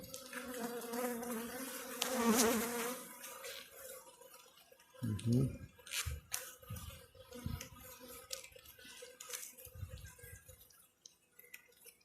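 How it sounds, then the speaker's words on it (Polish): Busy insect buzzing from many honeybees in an open Warsaw-type hive fills the clip, with soft clinks and handling noises close by. "O, tutaj to jest dużo pszczoły."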